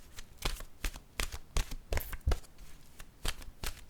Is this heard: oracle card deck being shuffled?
yes